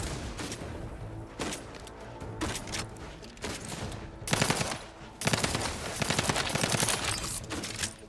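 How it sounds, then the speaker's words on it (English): Grenade blasts and rapid gunfire in a sci-fi shooter video game, bursts of automatic fire and sharp explosions crowding together, loud and close, with the heaviest bursts near the end. "Grenade!"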